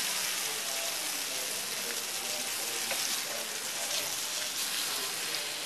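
Bangada mackerel fish shallow-frying in a pan for a Konkani Agri-style fry, giving off a continuous close, even sizzle and crackle of hot oil with no break.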